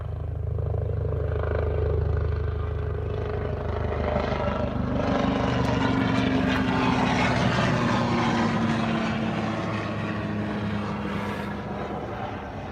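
A helicopter flies overhead near a dinghy on the water, its loud, continuous rotor and engine drone swelling and slowly shifting in pitch as it passes, with no speech.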